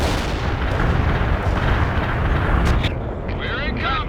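Heavy artillery barrages rumble and boom continuously in the World in Conflict war game, loud and dense, with a radio-style voice cutting in near the end.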